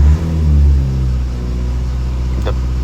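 A Mazda 6 with a Skyactiv engine revved to about 2000 RPM, the low engine note swelling briefly, then settling into a steady, loud hum held close by.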